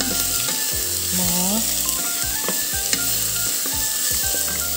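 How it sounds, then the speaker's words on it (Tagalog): Onions sauté in hot oil in a pan with a steady, close sizzle and frying crackle that runs through the whole clip, with occasional stirring clinks and no talking. "ginisa ko lang siya sa oil. Sibuyas."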